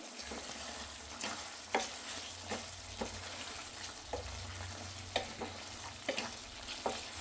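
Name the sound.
stirring mutton fry gravy with garam masala in pan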